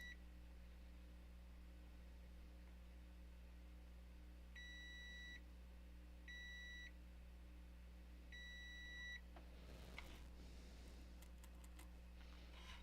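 Multimeter continuity tester beeping on a Honda ABS module repair, probing from metal to pad: three clean steady beeps, each about half a second to a second long, over a constant low electrical hum.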